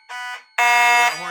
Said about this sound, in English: That horn's working.